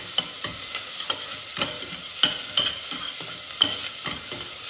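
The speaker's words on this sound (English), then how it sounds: "I saute the onions really well." Onions sautéing in a stainless steel pan, stirred with a stainless steel spatula: a steady sizzle under rhythmic metallic scrapes roughly twice a second, close and clear with no talking.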